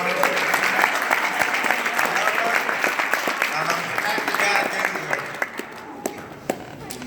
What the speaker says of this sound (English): Can everybody give a round of applause for my mom?